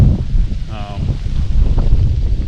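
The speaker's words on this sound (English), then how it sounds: "get down out of this wind. Pretty windy today" Strong wind buffeting the microphone outdoors on Illinois public land in summer, a continuous low rumble, loud and close, with a brief faint tone partway through.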